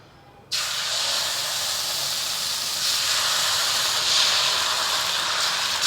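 Dosa batter, made from urad dal, rice, fenugreek and chana dal, hits a hot pan and sizzles at once in a loud, even hiss that holds steady to the end.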